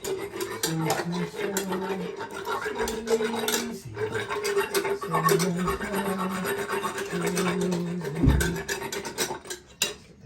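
An equine dentist files a horse's teeth, producing repeated close rasping strokes in an uneven rhythm with a steady low hum underneath.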